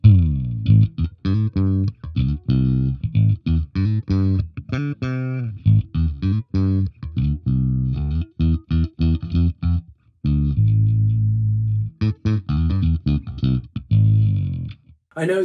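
Plucked riff on a passive Sterling Pete Wentz Stingray bass with the tone knob full, giving a brighter, more present tone and clear string attack, notes in quick rhythmic bursts with a few sustained ones.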